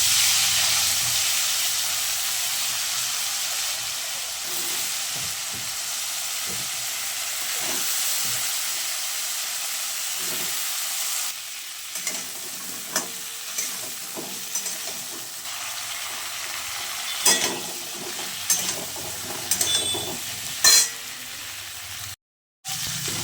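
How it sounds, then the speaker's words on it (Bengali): Cauliflower and potato fry in fish oil in a pan with a steady loud hiss and sizzle, later broken by scattered clinks and stirring knocks as the frying settles. "মাছের তেলের মধ্যে আমি এবার কপি আর আলুটা ভেজে নেব"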